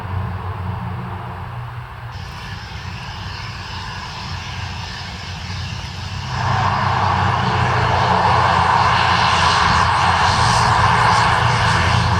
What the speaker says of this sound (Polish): Zobaczcie, wojskowa kasa przeleciała.